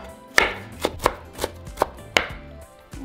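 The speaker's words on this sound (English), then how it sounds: "go back and chop it even into smaller pieces" A knife chops cabbage into smaller pieces on a cutting board while making a Mexican chilindrina snack, giving about six sharp, close, separate chops at an uneven pace with quiet pauses between them.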